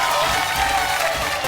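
Audience applause breaks out on the set of a Marathi TV game show, a brief, steady burst of clapping and crowd noise with no pauses.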